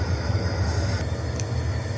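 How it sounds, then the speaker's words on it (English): Train arriving at a rail yard in the game Trainz, a steady loud rumbling engine and wheel drone with a couple of faint high clicks. "Here comes the train right now."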